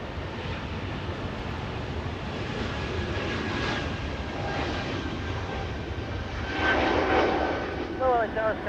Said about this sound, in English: Delta 999 flying to Portland, Oregon, getting a move on. That's a little A220.